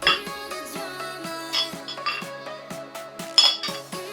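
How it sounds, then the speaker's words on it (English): Metal whisk clinking rhythmically against a bowl while beating raw eggs with a dash of salt, a steady series of bright taps and chimes, close and alone. "We're gonna whisk it all together."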